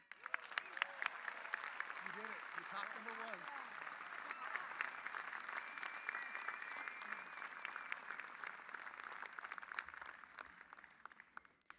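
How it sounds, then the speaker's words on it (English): A large graduation audience at a spring university commencement claps steadily and continuously, dense sustained applause with some crowd noise and a voice near the start. "I was going to ask you to give it up one more time for JB, but you are all still clapping"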